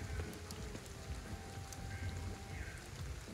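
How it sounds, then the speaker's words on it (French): Steady rain falling in the video game Ghostwire: Tokyo, a faint, even hiss of drops on street surfaces with a few light splashes, continuous and alone. "et la pluie est vraiment"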